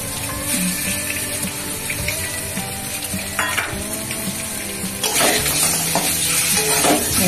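Peeled boiled eggs fry in oil in a pan until reddened while being stirred, a steady close sizzle with scraping, briefly swelling louder near the end.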